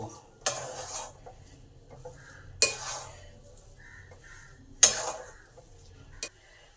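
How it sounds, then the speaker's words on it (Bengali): Rice flour being mixed into spices in a bowl, heard as a few separate bursts of scraping and stirring against the dish, with quiet gaps between them. "এবার এই চালের গুঁড়িটাকেও এই মশলার সাথে ভালো করে মিশিয়ে দেব"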